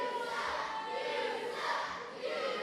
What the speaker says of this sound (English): And now we've got a crowd chant of "You suck to Banks."